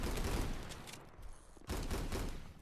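Dense automatic gunfire in an Oculus Quest 2 VR shooter, loud and close, with a brief pause in the middle before the rapid bursts resume.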